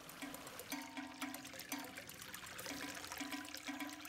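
A strong stream current in Tai Tam Country Park, Hong Kong, flows and gurgles steadily at low volume, with a faint recurring tone beneath the rushing water.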